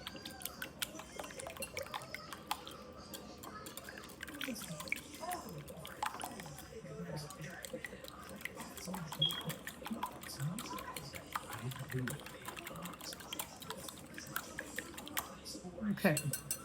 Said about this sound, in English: whisk up the eggs.